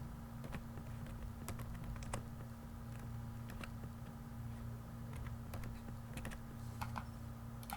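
Typing a name on a computer keyboard while setting up an Amazon seller account, scattered light keystroke clicks in small irregular bursts over a constant low electrical hum, no voices.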